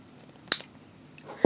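Scissors snip close by while a stone and glass beaded suncatcher is made, two crisp metallic cuts about a second apart in a quiet room.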